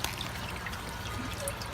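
Water drains steadily from an aquaponics swirl filter, a continuous close trickling and pouring stream that holds an even level throughout, with no talk over it.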